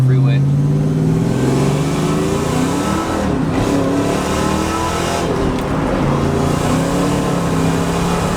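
A supercharged 700hp 2-valve Ford Mustang with a fully built motor accelerates hard up a freeway on-ramp, loud revs rising in pitch through the gears, heard close from inside the car, with a voice speaking over it.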